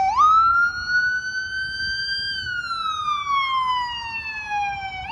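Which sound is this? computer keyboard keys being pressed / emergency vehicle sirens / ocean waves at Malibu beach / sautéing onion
emergency vehicle sirens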